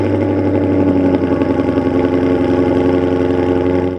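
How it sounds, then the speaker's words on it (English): A Maserati engine with a resonator-delete X-pipe exhaust idles steadily, a loud close, even burbling drone with a deep pulsing tone that holds throughout and cuts off at the end. "we like the exhaust with just the resonator delete X pipe."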